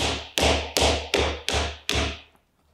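A mallet repeatedly strikes a wood chisel in a mortise hole for a stool joint, six sharp even knocks about a third of a second apart, each ringing briefly, close and clear with no talk.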